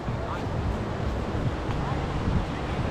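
Ocean waves at Arambol beach in Goa wash in a continuous broad rush, heavily mixed with wind buffeting the microphone, with a voice faintly present.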